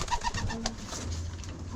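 Pigeons coo in a loft with an attached aviary, several low rolling calls overlapping close by, with a few sharper bird chirps mixed in.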